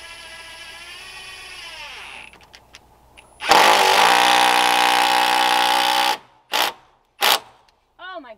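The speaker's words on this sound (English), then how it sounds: "it was definitely the drill." Power drill driving screws into a back deck during a deck revamp, a loud sustained whirring run of about three seconds followed by two short bursts, with quieter talk and mechanical sounds before it.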